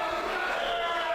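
Wrestling arena crowd mockingly doing the Shogun chant, a sustained, steady roar of many voices at moderate distance, brief and unbroken.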